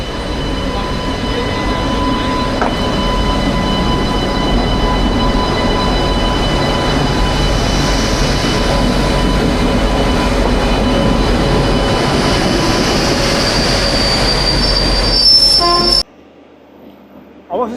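A WAP7 electric locomotive hauls a train with a loud, constant rumble of wheels on rails and sustained high metallic squealing. The sound cuts off abruptly near the end, leaving a quieter tail.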